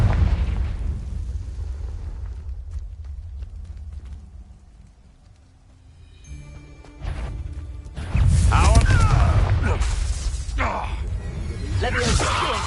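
Confringo fire blast spell cast in Hogwarts Legacy, heavy booming explosive bursts with whooshing tails after a quieter stretch, loud and close, with a voice heard in the mix.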